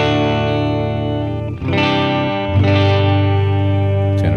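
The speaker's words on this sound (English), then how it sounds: "Let's just hear what it sounds like with a modeled amplifier on it." A distorted electric guitar plays sustained, chord-like notes through a modeled Vox AC30 amplifier, with a change of chord partway through and a slight echoing tail.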